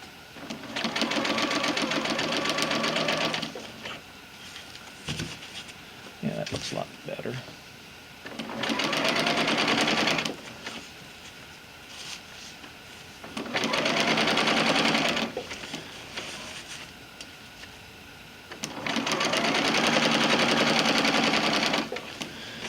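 A sewing machine stitches lightweight underquilt fabric in four long, loud whirring runs with short pauses between them, where faint handling of the material can be heard.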